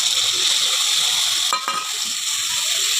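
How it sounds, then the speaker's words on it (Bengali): Spices stir-fried with browned onions for egg curry give a steady, close hissing sizzle, broken midway by a couple of quick scraping strokes from a spatula. "এই মশলাটা দিয়ে অন্তত 5 মিনিট ভালো করে কষতে হবে"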